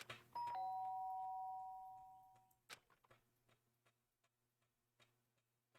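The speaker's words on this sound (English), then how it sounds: "the sharp sound of the doorbell pierced my sleepy haze and pulled me back to the real world." A two-tone electronic doorbell chime in the video game Danganronpa rings out loud and clear, sustaining briefly, followed by soft scattered clicks and faint rustling in a quiet room.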